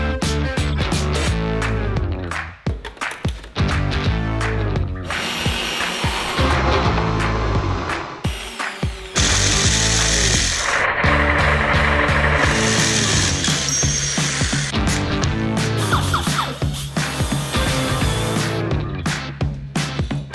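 A power tool cuts holes in a panel for engine cooling fans on a modified RC 390 motorcycle, giving off loud grinding and whining bursts broken by clinks and rattles of the workpiece.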